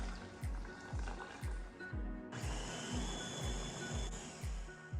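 A steady rhythmic thumping runs throughout, then a blender motor kicks in about halfway and whirs loudly and continuously to the end while blending pineapple, ginger and water.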